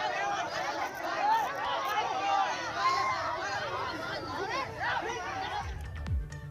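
A dense crowd gathered at a village fair gives off steady, overlapping chatter and scattered laughter, a busy open-air murmur of many voices at moderate distance throughout.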